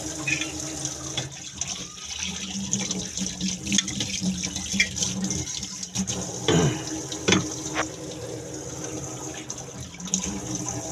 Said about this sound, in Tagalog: Tubig dito guys, malakas.